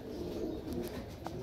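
Soft pigeon cooing murmurs steadily at low pitch, with a faint brief chirp near the end; no one speaks.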